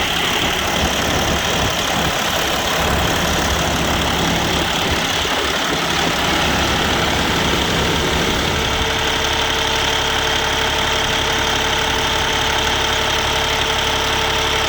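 A used semi truck's diesel engine idles steadily during a blowback test, a loud, continuous low rumble with a knocking texture whose tone shifts partway through.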